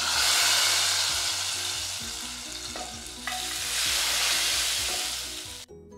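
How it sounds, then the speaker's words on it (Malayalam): Mustard seeds, chillies, urad dal and curry leaves fry hard in hot oil for a tempering, making a loud, dense crackling sizzle that stays close and steady and then cuts off abruptly near the end. "പിന്നെ നമുക്ക് കറിവേപ്പിലും കൂടി ചേർത്ത് കൊടുത്തിട്ട് ഒന്നുകൂടി റോസ്റ്റ് ചെയ്തെടുത്തിട്ട്"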